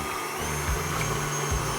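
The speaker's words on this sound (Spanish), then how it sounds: "Vamos entonces a agregar las claras al bowl y comenzamos a batir." An electric mixer beats egg whites in a bowl for meringue, a steady close whir with slight pitch dips as the beaters work, no voices.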